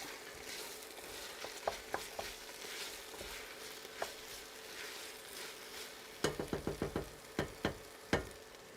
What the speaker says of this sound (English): You add the carrots earlier on to your mixture because they take a while to get softer. So. And then stir it up.